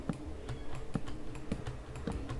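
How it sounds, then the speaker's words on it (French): Rapid computer keyboard typing on a PC during Minecraft play, close and steady, with irregular sharp key clicks and occasional heavier thuds, no voice. "Désolé aussi si vous entendez beaucoup les bruits de mon clavier."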